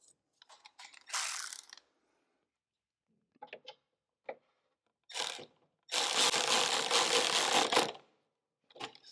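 A ratchet snugging the locking nut on a battery terminal of a Craftsman R110 riding mower, heard as separate bursts of rapid clicking: short flurries early, then one longer grinding run, close and clear with silent gaps between.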